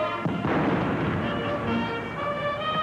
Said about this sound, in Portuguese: Eles foram saudados por tiros de canhão e pelo toque do hino nacional.